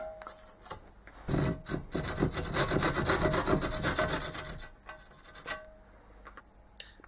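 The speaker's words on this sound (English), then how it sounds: "I gradually sanded down the edges using the original washer as a guide" Sanding the edges of a thin 3 mm MDF circle cut from scrap: a steady, close rasping rub that runs for several seconds, then eases off into a few shorter scrapes, with no talking.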